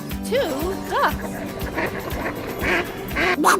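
Cartoonish duck quacks added as an editing sound effect, several short rising-falling quacks in quick succession, loud and close, with a voice speaking over parts of them.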